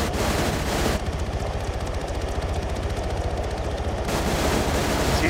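Suppressive gunfire during a military-style operation, a dense, continuous rattle of rapid shots that roars loud and unbroken for several seconds, with no talking.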